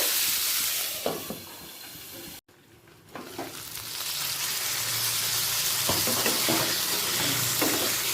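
Potatoes and pointed gourd fry together in a pan with a dense, steady sizzle, broken by a brief quiet gap and a few scraping stirs, with no one talking.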